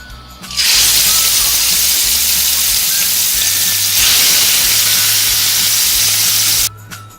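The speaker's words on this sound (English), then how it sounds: "So right now what I will do, I will fry this one. I will fry it for 5 minutes." Marinated chicken for peri peri drops into hot oil and fries with a loud, steady hiss and crackle that starts abruptly, holds close and continuous for several seconds, then cuts off.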